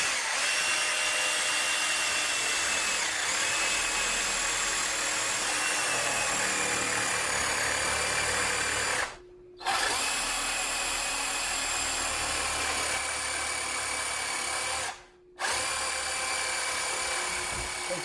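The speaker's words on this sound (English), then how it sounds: "So I'm going to go with a jigsaw blade." Handheld jigsaw cutting curves, a continuous high buzzing whine that runs for long stretches and stops abruptly twice, close and steady throughout.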